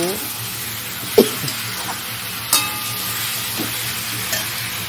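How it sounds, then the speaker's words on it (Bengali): Food being stirred in a cooking pan after a little water is added, with a continuous sizzle and a few sharp scrapes and knocks of the spoon against the pan, faint talk now and then. "দিয়ে জল দিয়ে সুন্দর করে নেড়ে চেড়ে নেব।"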